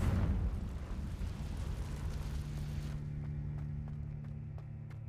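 A Confringo fire spell blasts in the video game Hogwarts Legacy, a loud rumbling burst that roars for a few seconds, then cuts away to quieter game ambience with a low hum and faint clicks.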